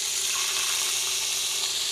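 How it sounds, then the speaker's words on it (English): Water is poured into a hot pan holding the drippings from seared steaks, producing a loud, continuous hiss and sizzle of steam close by. "to the drippings here, I'm going to add some water because you have to."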